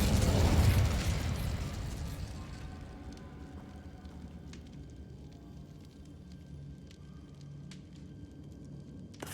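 An Incendio fire spell cast in a video game, a loud low burst of flame up front that fades into a crackling, rumbling tail with scattered small pops.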